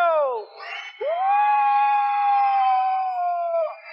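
At a children's science show, a young audience lets out long, high, sustained screams in two loud bursts, the second stretching for nearly three seconds before it trails off.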